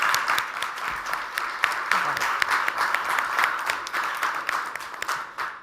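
Audience applause at an annual student recognition celebration, a steady spread of many hands clapping through the whole stretch at moderate level, with a faint voice surfacing briefly partway through.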